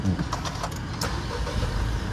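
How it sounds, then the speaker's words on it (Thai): A 2021 Honda City 1.0 Turbo SV starts by push button, its engine catching with a brief sharp burst near the middle before settling into a steady, close idle rumble. "เหยียบเบรกแล้วกดสตาร์ทได้เลยนะครับ"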